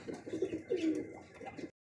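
A pair of pigeons coo in soft, throaty rolling phrases close by, a few repeated calls running together before a brief silence at the end.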